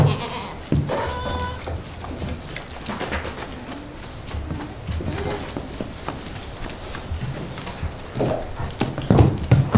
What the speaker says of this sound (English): the goats usually come in here because they want me to feed them